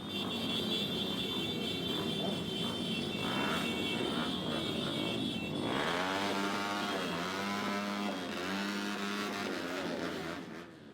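A motorcycle engine leads a hearse in a funeral procession to a cemetery, droning steadily and then revving with rising and falling pitch as it passes fairly near, with no voices.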